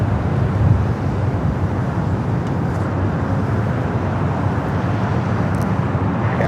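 KLM Boeing 787 Dreamliner arriving from Amsterdam and rolling down the runway at Los Angeles International Airport, a loud continuous low jet rumble that holds steady with little change.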